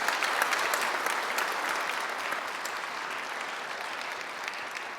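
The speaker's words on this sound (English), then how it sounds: "Give him a big applause." Audience applause for a NATO admiral after an opening address at a defence conference dinner, a full room clapping loudly and evenly, with individual claps audible and the sound easing off slightly toward the end.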